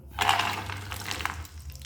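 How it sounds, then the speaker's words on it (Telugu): Cashews tipped into hot ghee in a pan, a brief bright sizzle and crackle that rises quickly, then settles into a softer, uneven frying hiss. "సో జీడిపప్పు అనేది ఈ గీలోకి వేసుకుందాం."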